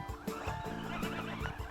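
A goat bleats in a few wavering, nasal cries close by, overlapping a steady outdoor background.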